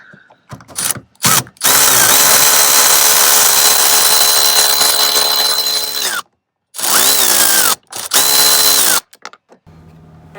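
A power tool drives fasteners out of a 2004 Toyota Camry side mirror assembly in loud, whining bursts. Its pitch rises and falls with each run, and short silences separate three separate spells.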